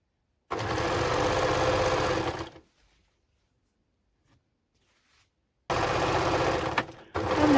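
A sewing machine runs in two loud, steady bursts while stitching refashioned jacket pieces together, with a quiet pause between the runs and a brief stop near the end.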